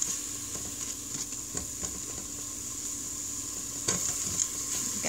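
Ginger, garlic and onion sauté in an Instant Pot, a soft steady sizzle up close with repeated scraping strokes of a spoon and a louder stir near the end, no talking.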